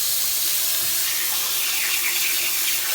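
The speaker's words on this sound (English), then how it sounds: "After I've cleaned the sink, what you need to do is you need to fill it up with cold water." Cold water runs steadily from a tap into a sink as it fills, a continuous broad rushing splash heard close up and alone, with no voices.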